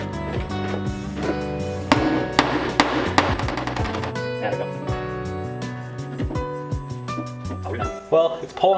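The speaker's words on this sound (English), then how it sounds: "All right, more hammer." Repeated metallic hammer blows on a drift car's metal fender ring out in an uneven rhythm, some loud and sharp, with a voice talking over parts of it.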